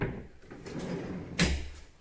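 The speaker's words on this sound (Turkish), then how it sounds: "bakın şu çekmecelerin güzelliğine bakın. Bak tık kapanıyor." A custom-built cabinet drawer in a container home slides shut and closes with a soft click, a brief close rumble followed by a firmer knock near the end.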